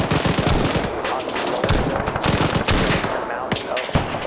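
Sustained machine gun fire in a military video game, loud continuous rapid bursts with heavy booming blasts underneath, filling the whole stretch without talk.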